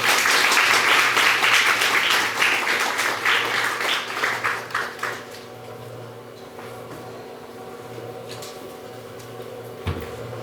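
An audience at an agricultural policy forum applauds as a former agriculture ministry director and FAO livestock subcommittee chair is welcomed to the stage, loud sustained clapping that thins out and fades over several seconds.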